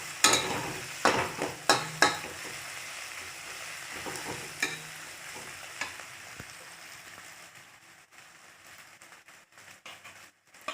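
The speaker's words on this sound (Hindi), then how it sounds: "हिलाएंगे।" Green chillies frying in a pan for chicken masala, sizzling under a spoon that scrapes and knocks against the pan several times early on, the frying settling to a quieter hiss later.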